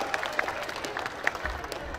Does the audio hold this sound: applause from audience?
yes